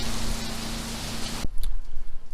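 Rain falls in Florida, a dense steady hiss that cuts off abruptly partway, leaving faint scattered drips and patters.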